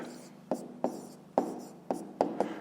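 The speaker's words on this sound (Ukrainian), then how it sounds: "То записуємо всі менші дроби, пишемо відповідь." Pen writing out a math answer on paper, six short scratchy strokes in an uneven rhythm, close and quiet with no talking.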